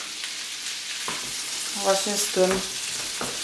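Drained, peeled shrimp sizzle and crackle in a hot pan for a quick dinner, a steady frying hiss with a few stirring clatters, while someone briefly speaks over it.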